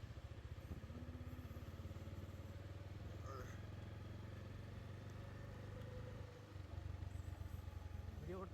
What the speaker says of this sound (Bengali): আমি তো বাইক চালাইতেছি